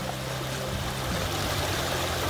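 Water runs through a backyard stream and waterfall feature with a steady, close splashing rush and low burble, continuous and alone.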